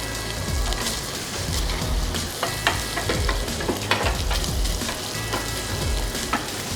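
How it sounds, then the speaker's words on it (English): Bacon rendering its fat in oil in a pan, a loud, crackling sizzle with irregular pops and spatters and some stirring, close and unbroken. "We're just going to let that bacon start to cook down."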